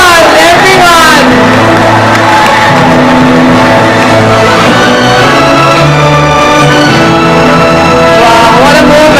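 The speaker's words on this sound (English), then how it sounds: "Once again, a big round of applause for Miss World, everyone." A large audience at a fundraising gala cheers and applauds for a newly crowned Miss World, a loud continuous roar of clapping and whoops under music with sustained tones, very close and dense throughout.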